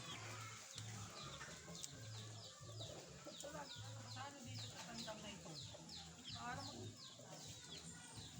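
Chickens cluck repeatedly at feeding time on a backyard farm, a busy stream of short calls over steady low background noise, with no talk.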